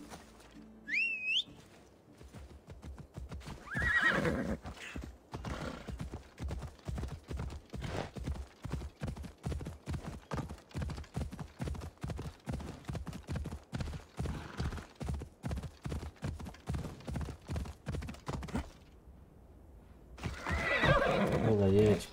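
In Assassin's Creed Odyssey, a horse whinnies loudly at the start and the end. In between, a long run of fast, rhythmic hoofbeats gallops steadily. A brief whistle comes early, and a voice talks over parts of it.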